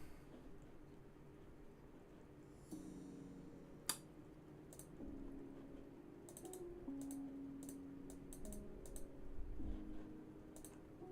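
Typing on a computer keyboard during web development work, with quiet, scattered key clicks in short bursts close by, faint under a low background hum.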